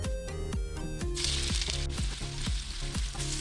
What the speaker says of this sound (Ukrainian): Трішки цибульку ми обжарили